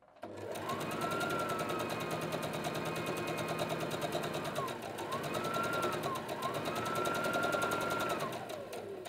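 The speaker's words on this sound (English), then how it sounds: "As long as you're pressing the reverse sewing lever, it sews in reverse so that your stitches are locked" A Brother GS2700 sewing machine stitches in rapid, even bursts, running in two long runs with a brief pause between, close and loud, while a woman explains over the whirring motor.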